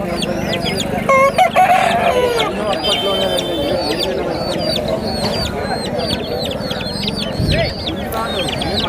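Hens cluck and a rooster crows amid a busy weekly country-chicken market in Bhogapuram, Vizianagaram, with people talking loudly nearby throughout.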